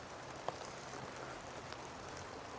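Steady rain falling outdoors during a front door installation, a constant soft hiss of drops on surfaces with a couple of faint knocks, no talking.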